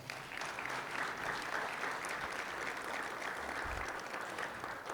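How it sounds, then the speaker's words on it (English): Steady applause from an audience at a sports hall of fame ceremony, an even wash of many hands clapping at moderate distance, holding level throughout. "Let's give him another round of applause."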